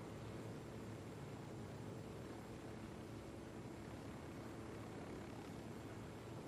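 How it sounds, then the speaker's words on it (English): A helicopter in the video game Ghost Recon Wildlands drones steadily as it flies past, a faint, constant rotor and engine hum blended into broadband wind-like noise with no talk over it. "Ooh, I see that helicopter flying over there."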